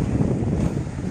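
Ocean surf breaking against rocks at Pagudpud's Stingray Beach in the Philippines, a steady close rush of water and wind buffeting across the whole stretch.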